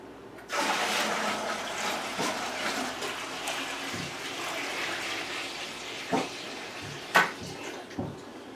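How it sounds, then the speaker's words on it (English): Water gushes into a cider fermenter, a sudden strong pour that starts abruptly and rushes steadily, with a few sharper splashes and clunks toward the end. "in goes the water"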